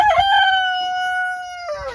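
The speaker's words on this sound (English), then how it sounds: "Looks like we got some chickens on the new perch" A rooster on a small farm lets out one long, clear crow, close and loud, with faint clucking from the flock on the new perch around it.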